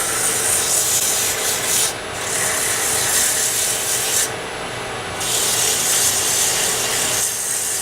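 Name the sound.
coarse sandpaper sanding a pen blank on a lathe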